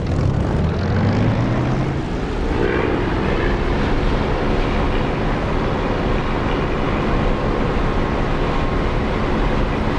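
An aircraft engine throttling up for takeoff in the DCS flight simulator, a loud, dense propeller roar with a rising tone early on, then sustained steady power close by.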